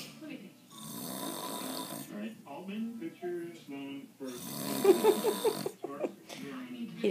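A man snores in slow, rasping bursts of breath, loud and close, with pauses between each snore and a voice speaking faintly in the background.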